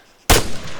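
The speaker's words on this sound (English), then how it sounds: "Getting peppered with shots now." A single sharp gunshot in the military shooter video game Arma 3, a sudden loud crack followed by a rolling echo tail.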